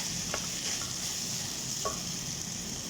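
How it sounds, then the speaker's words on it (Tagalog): Mung beans (munggo) stir fried in a pan, giving a steady soft sizzle with a few faint scrapes of the spatula, close and even throughout. "Then stir fry the munggo."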